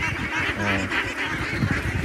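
Farm ducks give a short burst of honking, quacking calls that carry over a steady, noisy background.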